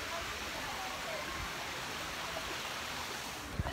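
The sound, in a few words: waterfall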